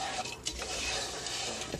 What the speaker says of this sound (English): Get all them onions and celery mixed in with this bread.